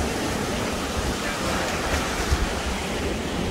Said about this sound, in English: Even if it's windy and big waves.